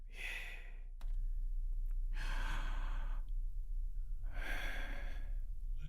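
Three deep breaths, each a slow, airy inhale or exhale lasting about a second, close and clear against a quiet background with a low steady hum.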